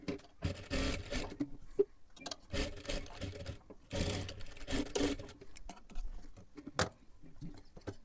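Sewing machine stitching a tassel onto a blouse, running in short bursts with brief pauses between, the needle's rapid mechanical chatter close and fairly loud.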